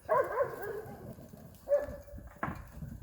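A dog outdoors near a woodpile gives a few short, loud barks and whimpers, spaced irregularly over a few seconds.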